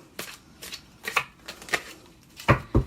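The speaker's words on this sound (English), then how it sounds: "I shuffle the cards" Tarot cards are shuffled by hand in several quick, soft riffling bursts, irregularly spaced and close up, with no talking.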